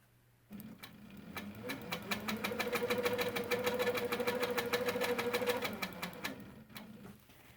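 A sewing machine free-motion quilts a double arch border with a ruler foot, its needle hammering in a fast, steady rhythm for about six seconds, ramping up and then winding down, loud and close with no voices.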